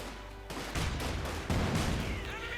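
Dense battle din from Company of Heroes 2, with grenade blasts and rolling gunfire layered into a constant roar and sharper bursts around the middle and later on, all loud and close.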